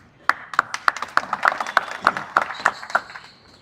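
An audience at a sermon claps in a rhythmic, evenly paced run of about a dozen sharp claps, close and distinct, tapering off at the end.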